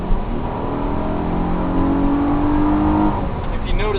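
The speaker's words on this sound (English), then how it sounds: "If you notice that exhaust note" Cadillac CTS exhaust note building steadily as the car accelerates in a sportier shift mode, a rising engine drone heard from inside the cabin, with a person talking over it.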